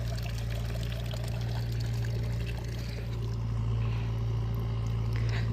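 Water pouring continuously from a natural mountain spring in the hills of upper Shimla, Himachal Pradesh, a steady close splashing trickle over a low constant hum, with no talking.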